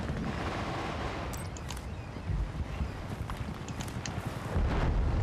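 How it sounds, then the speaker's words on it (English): Battlefield Bad Company 2 multiplayer firefight with sniper fire, a dense, loud barrage of gunshots and cracks crowding the whole stretch, with bursts piling up steadily and swelling near the end. "there's a lot of sniper fire"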